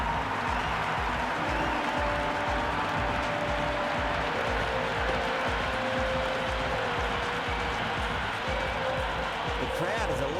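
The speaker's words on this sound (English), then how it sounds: "The crowd is electric right now." Stadium crowd noise in the Cricket 26 video game during a Mumbai Indians vs Lahore Qalandars match, a steady dense roar of cheering that holds loud and unbroken throughout, with commentary voices over it.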